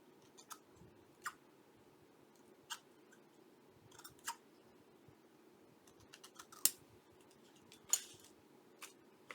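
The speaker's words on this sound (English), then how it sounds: "Now I just need to cut this little piece off." Small scissors snip a little piece of paper for a handmade feminine journal, giving sharp isolated clicks spaced a second or so apart, close and fairly quiet in a still room.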